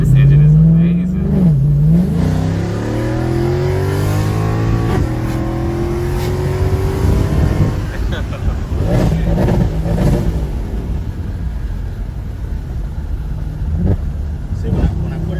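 A car engine revs hard in sport mode, pitch sweeping up and down several times, then settles into a lower steady drone while people talk over it.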